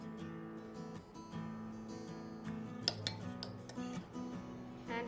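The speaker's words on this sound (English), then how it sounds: "We will now take it out in a bowl" Spoon scraping and clinking against a bowl as masala topping for sesame toast is transferred, light metallic taps and a couple of sharper clinks over a quiet kitchen background.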